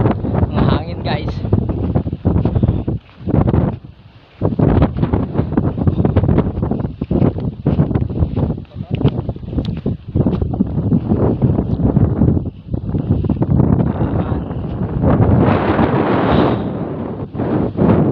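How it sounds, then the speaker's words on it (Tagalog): Strong wind gusts buffet the microphone outdoors on a climb, rumbling in uneven bursts through most of the stretch, with people talking at times underneath. "ang hangin"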